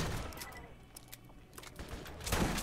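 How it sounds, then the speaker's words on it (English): Gunfire at an enemy out in the open in Borderlands: a rapid string of sharp, fairly faint shots popping over background game noise, building to a denser volley at the end. "we're gonna shoot this guy out in the open"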